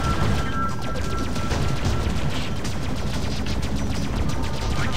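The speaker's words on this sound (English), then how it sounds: "Can't dodge all the missiles." Missile impacts and blasts batter a spacecraft in the space combat game Freelancer, a dense, loud, continuous barrage of crackling hits and booms with no pause.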